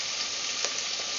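Onion sizzles steadily in a pan while being stirred for lamb caldereta, an even, close hiss with slight scraping texture.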